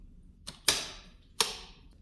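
Three sharp mechanical clacks with short metallic ringing tails, a light click followed by two louder snaps, as a tabulator stop is set on a 1963 Olivetti Diaspron 82 typewriter, close up in a quiet room.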